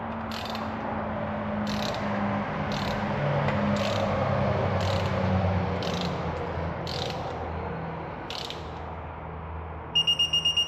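A torque wrench tightening manifold bolts on a 2013-2014 Ford F-150 3.5 EcoBoost engine produces a series of about eight evenly spaced ratcheting clicks over a low hum, then a short fast burst of clicks at the end.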